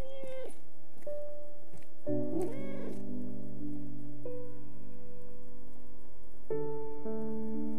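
A cat meowing in the rain in the video game Relight, with several drawn-out tonal meows, some rising and bending, repeating over a soft steady patter of rain and game sound.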